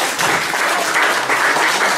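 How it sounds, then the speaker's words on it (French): Loud, dense applause from a showcase audience fills the whole stretch, steady and continuous with no voice over it. "Je lui demande d'applaudir très fort Ziz du panier"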